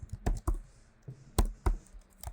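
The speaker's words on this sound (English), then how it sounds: "So I will be typing this command here." Keys clack on a computer keyboard as a command is typed, a handful of separate close taps in an uneven rhythm against a quiet background.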